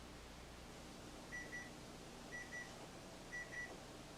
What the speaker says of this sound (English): There's our timer for 30 minutes.